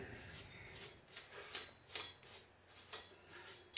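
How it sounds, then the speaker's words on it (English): A wire brush scrubs the rusty wheel hub of a 1999 Jeep Cherokee XJ in quick, rhythmic raspy strokes, about two per second, close and fairly quiet. "it's worth taking a wire brush to it just to kind of clean it up a little bit"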